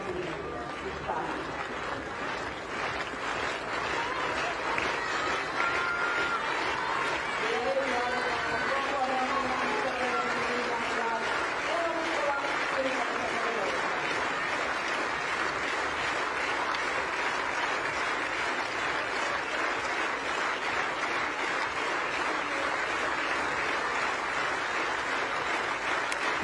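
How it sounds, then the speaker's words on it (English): A stadium crowd claps steadily at a women's U20 high jump final, a dense continuous patter of applause from the stands with a commentator talking over it throughout. "The crowd rises, clapping her into the run-up."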